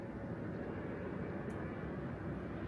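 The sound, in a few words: airplane flying overhead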